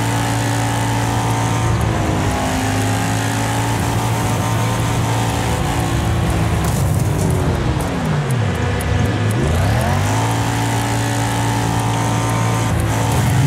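A car in the Wreckfest racing game drives in reverse, its engine whining loudly and continuously with pitch rising and dropping sharply as it revs, shifts and slows.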